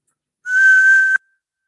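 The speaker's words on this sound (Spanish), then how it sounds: "Lo que estoy silbando es un sonido puro." A single steady whistled tone, clear and pure, held for under a second with no other sound around it.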